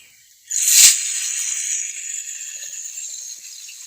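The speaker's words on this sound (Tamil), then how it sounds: "பாருங்கள், நான் வெறும் எண்ணெய் ஊற்றி நல்லா வதக்கி எடுத்துட்டேன்" Okra pieces sauté in hot oil in a pan, a sudden loud sizzle that bursts in and then settles into a steady, fainter hiss for several seconds.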